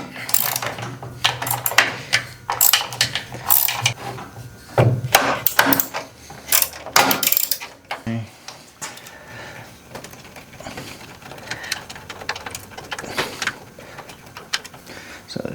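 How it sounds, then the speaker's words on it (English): A ratchet wrench clicks in quick bursts while removing 5/16 bolts from a Craftsman garage door opener (1/2 HP or 1/3 HP), with clattering metal handling that thins to quieter fiddling later on. "there are 3 5/16 bolts that I can remove"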